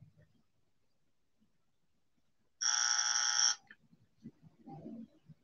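A podcast buzzer sound effect blares once, loud and steady for about a second, after a short lull and followed by faint murmuring voices.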